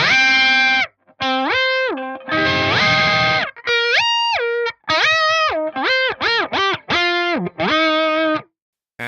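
Distorted electric guitar through an AX8 Whammy pitch block set to mono tracking, chords gliding up and down in pitch in choppy repeated bursts, loud and harsh with short gaps between phrases.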